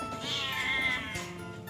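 A forest cat in heat lets out a single drawn-out, wavering meow, close and clear with nothing else heard.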